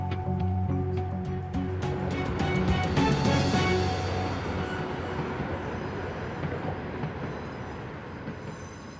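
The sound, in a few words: train running over repaired track at Kings Cross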